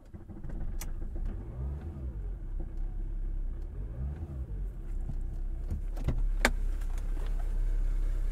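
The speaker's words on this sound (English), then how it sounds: "And now I can start the engine." A Jaguar X-Type engine starts and rumbles low and steady nearby, with a slight rise in revs toward the end and a few small clicks.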